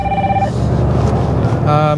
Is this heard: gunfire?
no